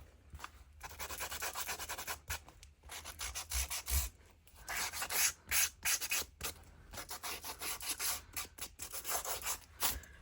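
Paper edges are roughened by rubbing and filing with a small sander, producing steady scratchy abrasive strokes in quick irregular bursts, close and fairly loud, with no talking.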